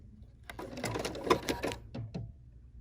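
A BERNINA 480 sewing machine stitches an embroidery sampler block in a short, close, rapid burst of needle clatter that slows into a few separate knocks at the end.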